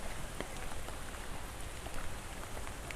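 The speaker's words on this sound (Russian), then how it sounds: "Первый раз пошел дождь на 5-й день, и это даже круто." Rain falling in the park at Meiji Shrine in Tokyo, a dense, even patter of drops on surfaces, steady and close with no voices.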